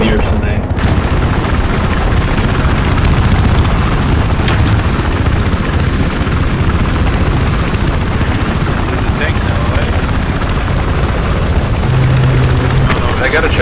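A helicopter roars loudly in a Battlefield 4 multiplayer match on Siege of Shanghai, under constant gunfire and battle noise.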